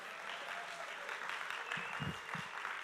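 Audience at a synthesizer concert talk at Superbooth applauds, a steady, moderately distant patter of clapping with a few low knocks near the end.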